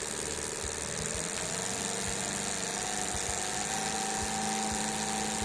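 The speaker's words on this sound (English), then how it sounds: "this is when the engine is being driven at 2000 RPM" An internal combustion engine runs steadily at 2000 RPM, a continuous mid-pitched drone with a faint regular low pulse and high whine, close and unbroken with no voices.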